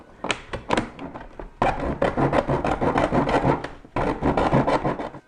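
Hand saw rasping through wood in close, rhythmic strokes, with short bursts of scraping broken by brief pauses.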